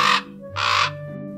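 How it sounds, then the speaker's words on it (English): A raven croaks twice, deep and rough calls about half a second apart, close and loud against a low steady hum. "while ravens have a deeper croaking sound like this."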